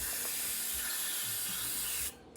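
Cleaner sprayed from a can to soak a Fargo carburetor, one steady close hiss lasting about two seconds before cutting off abruptly.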